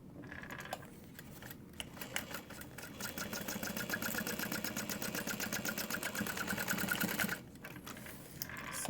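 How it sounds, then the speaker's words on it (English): A sewing machine runs steadily, stitching a fabric pocket shut on a mini backpack, with a close, even mechanical chatter that starts, holds for several seconds, then stops. "Sewing that shut."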